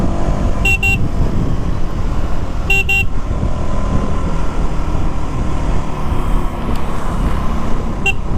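Car horns honk on a Nilgiris road near Ooty during a bike ride, a pair of short double toots followed by another brief beep, all over steady loud wind and engine rumble.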